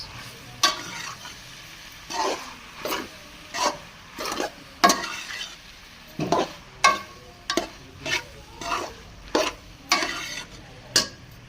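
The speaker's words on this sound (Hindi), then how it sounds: "तो साथ ही हम मैकरोनीस डाल देंगे। इसे करेंगे अच्छे से मिक्स।" Macaroni stirred and mixed through a pan for chicken macaroni, a utensil scraping in a steady series of short, close rasping strokes roughly once a second, with no talking.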